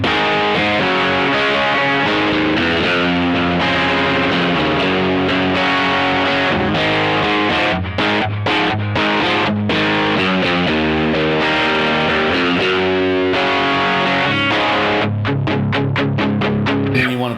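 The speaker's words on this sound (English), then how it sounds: "add the distortion." A heavily distorted electric guitar, switched from a clean sound, plays sustained chords and notes, loud and continuous, ending with a run of quick choppy strums.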